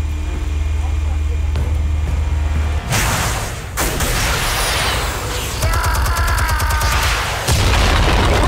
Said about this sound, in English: Explosives armed.